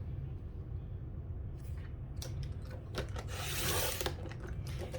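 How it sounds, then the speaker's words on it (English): A 12-inch paper trimmer slices patterned scrapbook paper into squares, giving a few quiet scraping, sliding strokes and a brighter rasping cut near the end, close and with no talking. "So I'm going to use the 12-inch trimmer. I'm cutting at 2 3/4 inches."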